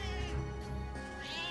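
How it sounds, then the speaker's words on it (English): A cat meows in a long, drawn-out wail with a caterwauling edge, fairly soft against a constant background drone, heard in a video game. "Why are you meowing?"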